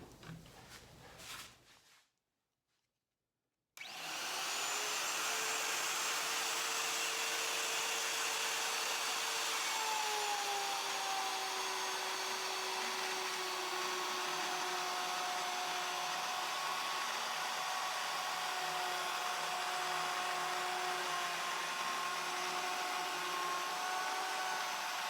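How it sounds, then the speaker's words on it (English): A router set to a quarter-inch depth cuts dados in wood for a tall cabinet, starting after a moment of silence with a loud, sustained high whine that holds steady close by for over twenty seconds, with no talking. "Okay, I have the router now set to a depth of 1/4 inch. And I'm ready to make our cut."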